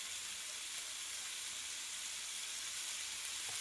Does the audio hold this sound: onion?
yes